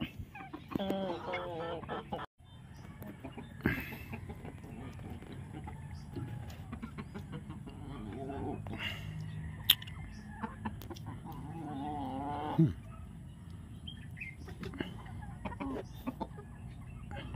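Well-fed backyard chickens cluck repeatedly near the listener while pecking at azolla feed, with soft taps and rustling between calls and a voice speaking briefly.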